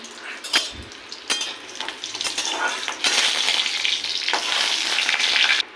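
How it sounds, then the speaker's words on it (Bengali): Lentil dumplings (bori) fry in hot oil in a wok, a steady crackling sizzle with sharp pops and occasional stirring clinks, growing louder and denser in the second half, with no voices. "কড়াইতে তেল দিয়ে দিয়েছি এখানে বড়ি নিয়েছি এটাকে ভেজে নেব"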